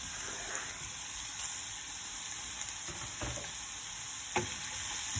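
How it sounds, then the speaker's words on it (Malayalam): Onion and capsicum sauté in a hot pan, a steady soft sizzle with faint stirring scrapes and one small clink near the end. "ഇത് നമ്മൾ ചെറുതായിട്ടൊന്ന് ഇങ്ങനെ വഴറ്റി കൊടുക്കും"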